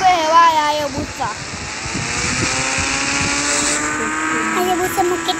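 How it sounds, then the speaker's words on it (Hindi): A Hayabusa motorcycle in the Indian Bikes Driving 3D game runs at full power, its engine holding a steady high-revving drone with shifting pitch, while a voice talks over it at the start and end. "चलो गाइस इसको चलाते हैं। अभी फुल पावर पे है हायाबुसा।"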